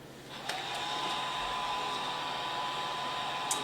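A heat gun runs steadily, a constant close blowing whir used to melt encaustic wax onto a collage piece, with a couple of faint clicks.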